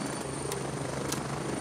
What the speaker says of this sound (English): We got chopper one coming.